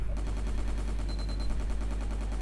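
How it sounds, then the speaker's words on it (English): Rapid, steady automatic gunfire from shooting enemies in GunZ: The Last Duel, a continuous stream of evenly spaced shots over a deep constant rumble. "So I'll try to shoot them instead of swording them."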